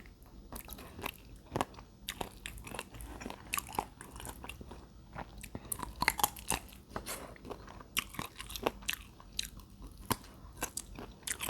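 Close, steady chewing and crunching of chicken feet curry with rice, with repeated bites and crackly mouth sounds and no talking.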